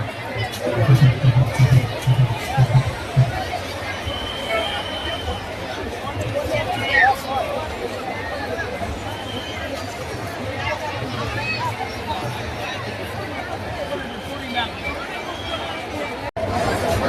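A dense crowd at the Khodiyar temple fair in Varana keeps up a continuous babble of chatter, with a nearby voice talking over the hubbub throughout.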